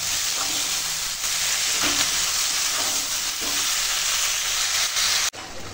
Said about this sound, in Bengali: মশলার সঙ্গে আনাজটা একটু কষিয়ে নেব।